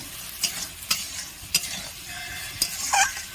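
Sattu (roasted gram flour) is sautéed in an open pan for a Bengali shikh recipe, with a soft frying hiss under repeated sharp scrapes and taps of a spatula against the pan.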